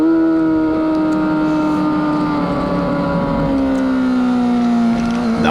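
Car driven hard on a track day, a loud sustained engine drone with rising and falling pitch as it holds third gear and shifts between corners, close and continuous throughout.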